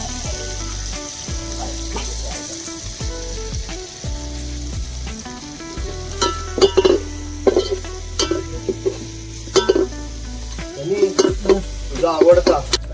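Onion and garlic fry in oil in a pan, with a steady low sizzle broken by frequent sharp scrapes and clinks of a stirring spoon that grow busier toward the end.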